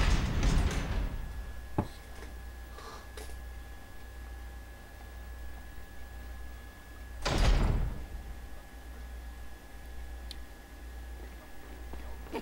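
In Resident Evil 4 on GameCube, a castle door is opened with the castle gate key: a heavy mechanical clunk at the start, faint ticks, then a louder grinding door swing midway over a low steady hum.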